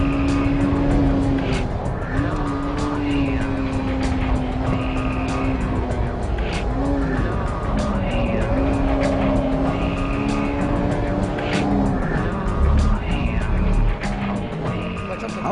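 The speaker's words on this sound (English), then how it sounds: "I can go through the S corner at almost full throttle in third gear." A Honda Civic EK9 Type R pushed hard on a track, its engine holding a loud, steady high-revving drone through corners taken near full throttle in third gear, with brief shifts in pitch and faint tire noise underneath.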